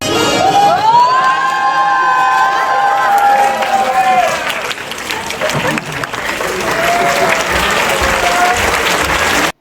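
A loud university crowd in South Korea bursts into sustained applause and cheering after a dance to Telugu songs, with raised voices and whoops riding over dense clapping that eases slightly midway, then swells again.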